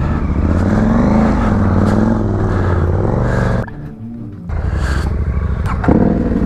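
A motorcycle revs hard through mud on an off-road trail, its engine loud and close with a wavering pitch, dropping out briefly before roaring back up.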